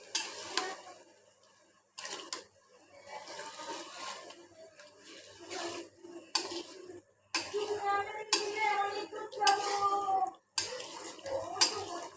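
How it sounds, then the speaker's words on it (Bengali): Boiled taro greens are stirred and mixed in a cooking pan, with repeated scraping and clinking strokes of a utensil against metal in irregular bursts separated by short pauses, close and fairly clear. "এটা আমি আগেই সেদ্ধ করে নিয়েছিলাম একসাথে একটু মিশিয়ে নেড়ে নিচ্ছি"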